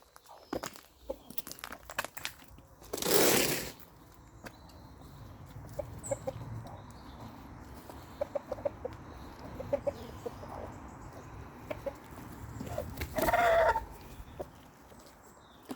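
Chickens clucking in a backyard flock with a cockerel among them, steady soft clucks throughout and two louder crowing bursts, close by and with no talk.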